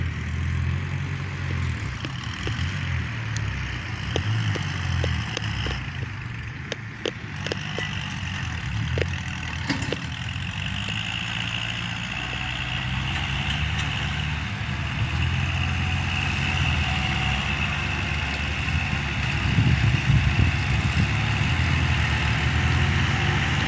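Kubota LC 7085P farm tractor engine running steadily in a rice field being prepared for sowing, a continuous low drone with faint clicks and knocks, moderately loud throughout and alone.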